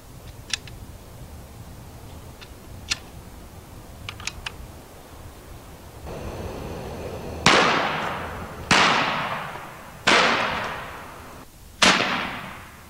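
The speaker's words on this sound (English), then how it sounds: "By the way, Johnny, let's start shooting, because, man, I am tired of talking and looking" Four sharp, loud magnum air rifle shots crack at roughly even intervals, each decaying quickly, following a stretch of quiet light clicks and handling noise.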